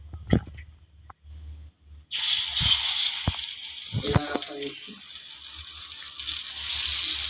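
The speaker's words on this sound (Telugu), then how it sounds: "ఇప్పుడు నేను ఫ్రై చేసి చూపిస్తాను" Battered food sizzling as it goes into hot deep-frying oil, a steady bright crackle that starts abruptly after a quieter opening with a few clunks, then continues loud and close with occasional pops.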